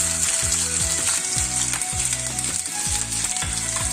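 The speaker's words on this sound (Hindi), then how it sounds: "ये देखिए अब मैं ये जिंजर और ये गार्लिक जो है ये हमने जो लॉन्ग लॉन्ग कट किया था हम इसको फ्राई करेंगे।" Long-cut ginger and garlic frying in a pan for a bhuna mutton dish, giving a steady, loud sizzle with faint rhythmic scraping throughout and no talking.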